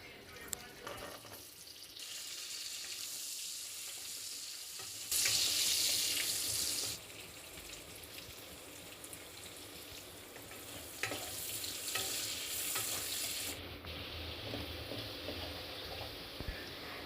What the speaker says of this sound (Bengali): তারপরে একে একে আমি আলুগুলোও ভেজে নেবো।